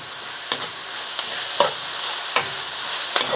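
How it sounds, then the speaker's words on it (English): Baby sweet corn fries in a chicken and mushroom stir fry, with a steady loud sizzle and a few sharp clatters as it is tossed in the pan. "I'm going to add our baby sweet corn in. And we can start to fry that off. Give it a good toss."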